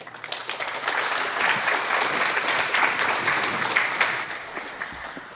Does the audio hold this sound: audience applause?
yes